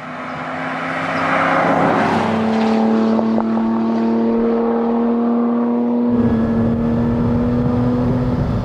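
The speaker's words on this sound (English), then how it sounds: "That's a good sound. A Camry V6 has never sounded this good." A Lotus Emira's V6 engine revs hard on the move, climbing in pitch to a loud, sustained snarl, then settling into a steady drone with a brief gear-change dip, heard close and without talk.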